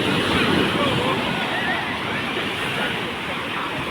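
Sea waves at Marina Beach wash in as a steady, loud broadband roar of surf, continuous throughout with some wind rumble on the microphone.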